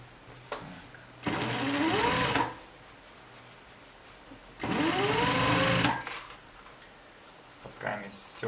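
Sewing machine stitching a jacket in two separate bursts, each a fast whirring run lasting about a second and a half with a rising and falling hum, close up, with quiet pauses between.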